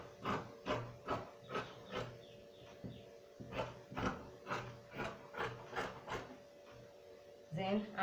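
Excess dress fabric trimmed with scissors, a steady run of crisp snipping cuts at a regular pace, close up, with a short rustle at the end.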